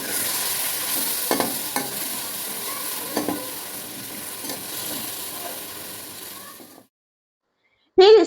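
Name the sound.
onion and tomatoes frying and stirred in a pan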